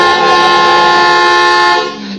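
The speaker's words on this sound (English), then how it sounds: "What are you honking now for?" A car horn sounds in an old suspense radio drama set on a fast drive along winding curves, one loud continuous blare held for about two seconds before cutting off, with no talk over it.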